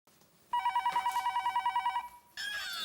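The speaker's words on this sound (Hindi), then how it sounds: "इतनी रात गए किसका फोन आया होगा?" A telephone bell rings late at night, a fast trilling burst of about a second and a half, then a brief pause before it starts ringing again.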